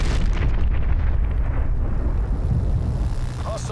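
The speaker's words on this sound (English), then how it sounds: "I'm gonna stop so you can hear those shots and everything" Gunfire and explosions in the Call of Duty: Cold War alpha, a loud continuous wash of booming blasts and rumbling battle noise with no talking.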